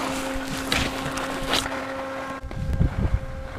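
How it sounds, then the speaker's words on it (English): Steady wind roars across the microphone on a moving ski lift over snow slopes, a constant broadband rush with a faint mechanical hum underneath and heavier low buffeting gusts near the end. "I don't even know if you can hear me because it's windy."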